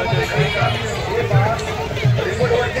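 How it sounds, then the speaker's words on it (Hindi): Dense crowd babble at a Nag Panchami village fair with rides running, many overlapping voices close by forming a loud, continuous hubbub with scattered shouts. "कितने लोग हैं, भीड़ कितनी है।"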